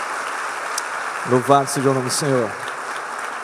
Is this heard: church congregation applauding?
yes